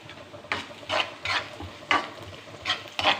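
Pre-roasted semolina being roasted again in oil in a pan with onions and salt, stirred in a steady run of scraping strokes about every half second over a soft sizzle, close and distinct.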